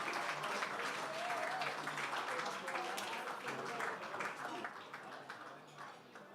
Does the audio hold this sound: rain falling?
no